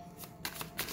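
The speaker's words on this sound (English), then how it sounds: "let me just get one more good shuffle" A tarot card deck being shuffled, with three quick papery riffling bursts close by, each a soft brushing rush of cards, with no talking.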